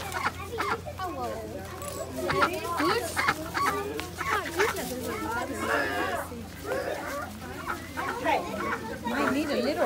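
Chickens, ducks and other farm birds cluck and call in a busy petting-zoo yard at a Christmas theme park event while children and adults chatter and shout nearby.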